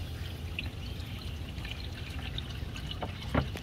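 Old engine oil drains from a Ford Bronco Sport during an oil change, a faint steady trickle and pour of liquid with a few drips, and a brief louder knock near the end.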